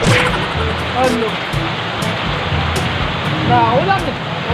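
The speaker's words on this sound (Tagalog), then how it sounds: "Na, ulan, eh." Rain falls in a steady, dense hiss that fills the whole stretch, while people chat casually over it.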